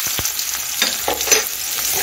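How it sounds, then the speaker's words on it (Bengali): Chopped onions fry in hot oil with cumin and bay leaf for a pea ghugni, a close, continuous crackling sizzle broken by quick scraping strokes of a spatula stirring the pan. "পেঁয়াজটা একটু ভেজে নিচ্ছি।"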